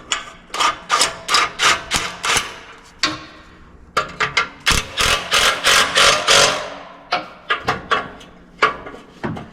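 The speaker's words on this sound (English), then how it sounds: "Basically just got an extension and 9/16 socket. We're going to tighten them up fairly evenly." A ratchet with an extension and 9/16 socket tightens the exhaust flange bolts on a 2012-2018 Jeep JK Wrangler, giving loud, close bursts of rapid clicking strokes in quick runs separated by short pauses.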